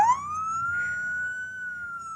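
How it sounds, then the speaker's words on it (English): A police car siren leads a St. Patrick's Day parade in Woodbridge in 1997, one loud steady wail rising and holding as a single sustained tone throughout. "It's the first of many sirens, Jim."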